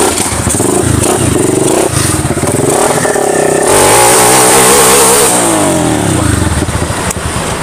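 A 200cc five-speed motorcycle engine revs loudly up close, rising and falling in pitch through several throttle bursts with a rough mechanical clatter.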